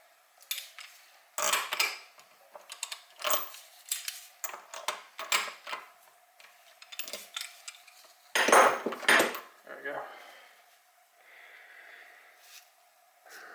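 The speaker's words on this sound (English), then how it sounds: "let's pull a spark plug" Metallic clinks and scrapes of tools work a spark plug out of a Honda CRF50 engine in bursts separated by pauses, close and fairly loud, with a louder clatter near the end.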